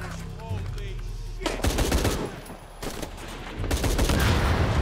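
Sustained machine-gun fire roars in Shadow of the Tomb Raider, dense rapid bursts broken by a brief lull around the middle before surging back loud and continuous, with some speech mixed in.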